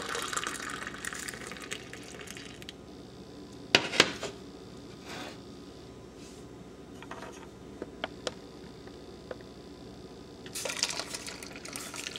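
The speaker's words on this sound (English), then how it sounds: "I actually pour it back and forth to get all of the foam and the sugar incorporated." Coffee and milk with sugar is poured back and forth between containers, with a trickling gush at the start and again near the end and a few light clinks of the vessels in between.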